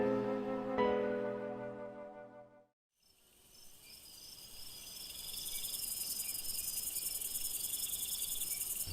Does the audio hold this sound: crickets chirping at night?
yes